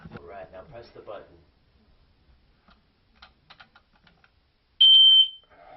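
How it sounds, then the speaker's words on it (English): A ceiling smoke detector gives a short, piercing high-pitched beep near the end after its test button is pressed, following someone talking and some light tapping. "It's going off, it's 2 o'clock in the morning, you want to turn it off"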